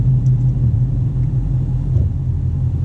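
A manual car's engine rumbles steadily close by at a low, even idle-to-light-throttle drone, with no clear rise in revs and no talk.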